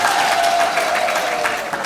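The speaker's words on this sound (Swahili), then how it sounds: "Makofi sana jamani." Steady applause from an audience at a Tanzanian community gathering on women's and youth group loans, dense clapping filling the whole moment without pause.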